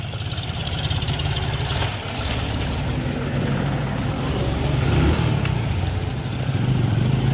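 A John Deere 5105 4x4 diesel tractor engine runs in a steady, rumbling drone at close range, with no voices over it.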